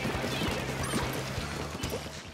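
A Splatoon burst bomb, an ink-filled balloon, bursts on contact in the video game, with sharp splatting impacts over a steady droning game background.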